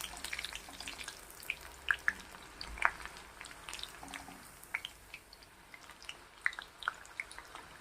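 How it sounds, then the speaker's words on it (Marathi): Bhaji fritters fry in hot oil over a medium flame, giving a soft steady bubbling hiss dotted with small sharp pops and crackles, close but fairly quiet. "आणि छान खरपूस होईपर्यंत ही भजी आपल्याला तळून घ्यायची"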